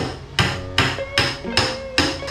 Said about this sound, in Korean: 타격 드라이버와 망치를 이용해서 몰딩이 붙은 실리콘만 떼어내야 하는데